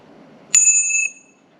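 A metal part from an NV4500 manual transmission tapped once, giving a sharp strike followed by a clear, bell-like ring that sustains for about half a second before decaying, close and loud in a quiet setting.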